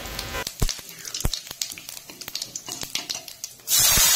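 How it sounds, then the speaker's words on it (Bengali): Whole cumin, cinnamon and cardamom dropped into hot oil left from frying shol (snakehead) fish for a Bengali curry, crackling with sharp scattered pops over a steady sizzle, ending in a sudden loud hissing burst. "মাছ ভাজা তেলেই ফোড়নে দিচ্ছি গোটা জিরা মশলা"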